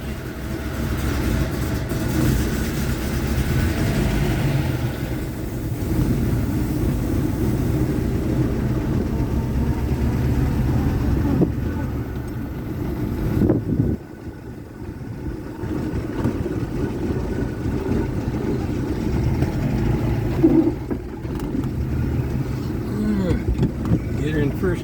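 A 1972 Porsche 914 with a new transmission idles, then is put in first gear and pulls away, with a steady low engine drone throughout and someone talking over it.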